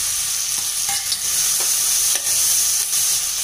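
A paste of ground cumin, garlic and curry leaves, with small onions, sizzles steadily in a hot pan, and a spoon clatters against it now and then as it is stirred.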